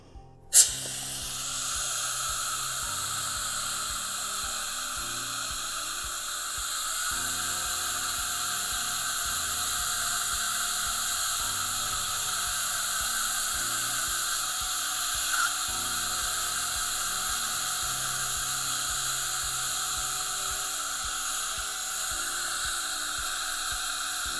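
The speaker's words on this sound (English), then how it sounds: "With a slower spinning drill like this, I'm not worried about damaging the enamel." A slow-spinning dental drill fitted with a fine-grit carbide bur runs steadily and alone at close range, a continuous high whine with a faint hiss. It starts with a brief click and holds for over twenty seconds.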